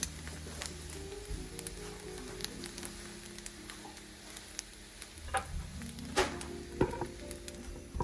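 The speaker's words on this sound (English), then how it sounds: "Yeah, it is frying. Raw rice frying." Raw rice fries in oil in a pan with oregano, a steady crackling sizzle broken by occasional sharp pops and stirring scrapes, close and fairly quiet, with a low hum in the background and no talking.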